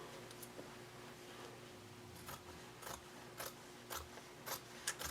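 Scissors trim excess fabric lining from a sewn zipper pocket with an overlay, giving a series of quick, crisp snips that grow steadier and slightly louder toward the end against a quiet room hum.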